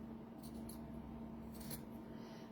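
Scissors snip through fabric for a handmade fabric book, giving two quick pairs of faint, crisp cuts over a quiet room background.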